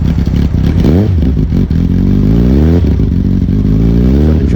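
A 1989 Honda CBR 1000F motorcycle starting with the choke on, the engine catching at once and running loud and close with a rough, rising and falling rev, no voices.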